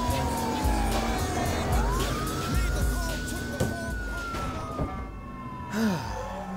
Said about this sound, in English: That's the sound of the